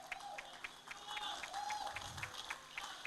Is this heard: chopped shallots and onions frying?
no